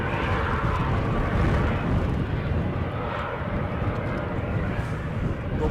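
An ATR aircraft landing in stormy crosswind at Edinburgh, a loud steady turboprop roar mixed with heavy wind rumble, continuous and fairly close.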